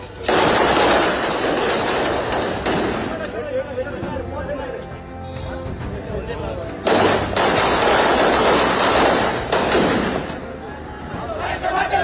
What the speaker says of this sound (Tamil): பட்டாசுகள் வெடித்தும் அண்ணல் அம்பேத்கர் சிலைக்கு மாலை அணிவித்தும் கொண்டாட்டம்.